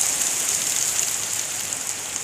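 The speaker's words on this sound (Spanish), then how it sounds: "Granizo" Hail falling during a thunderstorm in Ensenada, pelting a car and its surroundings as a dense, steady hiss of tiny impacts with no voices present.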